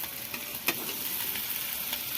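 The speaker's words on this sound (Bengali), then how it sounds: "ভালো করে নেড়ে চেড়ে নিচ্ছি" Paneer cubes frying in a spiced pan, with an even hiss of sizzling oil and a single sharp scrape or knock from the stirring spoon.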